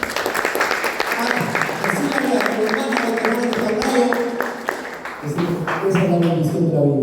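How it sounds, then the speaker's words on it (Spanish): A church congregation claps together in sustained, dense applause at a worship service, a loud, steady patter lasting several seconds with a brief dip before picking back up. "Dame un fuerte aplauso al Señor."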